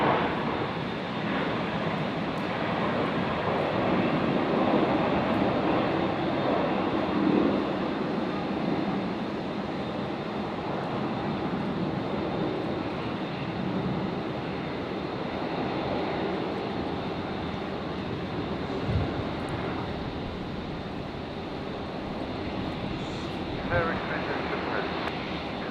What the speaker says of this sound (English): So Jetstar 656. Departing here to Canberra.